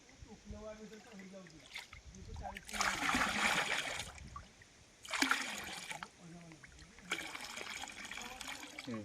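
Water splashes and pours in bursts while mangoes are washed outdoors, three louder gushes broken by quieter trickling, with people talking throughout.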